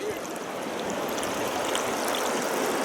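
Steady rushing flow of river water on a rafting trip, a continuous broadband wash that stays loud and even throughout with no clear voices over it.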